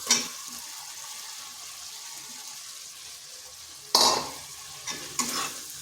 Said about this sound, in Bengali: আলুটা একটু ভালো করে মশলার সাথে কষে নিচ্ছি